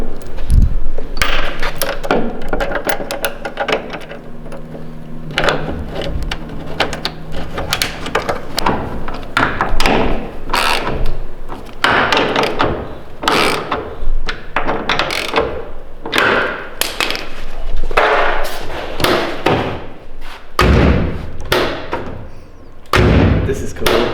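Gutted, lightweight racecar doors being handled and fitted by one person, giving repeated loud thumps, knocks and clatters of panels and metal in a garage, with short gaps between bursts.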